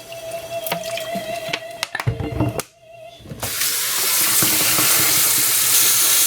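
Shrimp are rinsed in a kitchen sink: a few clinks and drips give way to a steady, loud gush of tap water running continuously for several seconds.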